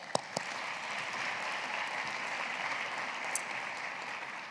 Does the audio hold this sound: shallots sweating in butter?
no